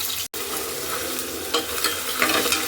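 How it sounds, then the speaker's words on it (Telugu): Onions frying in a pan for hotel-style chicken biryani, a steady close sizzle broken by a brief silent cut near the start and a few louder stirring scrapes later on. "ఆనియన్స్ వేగనిద్దామండి కాసేపు"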